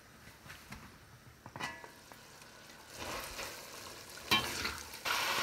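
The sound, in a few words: chicken mince cooking on low heat in pan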